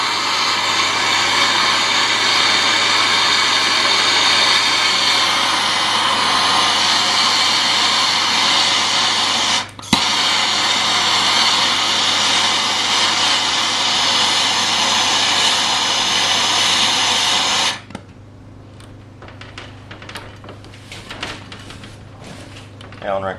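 Heat gun warming the set screws on clutch arms, a loud steady blowing whine broken by one brief click, then switching off to quiet handling noises.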